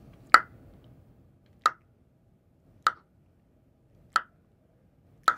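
A voice imitates a metronome with five sharp, evenly spaced clicks about a second apart, crisp and close against near silence.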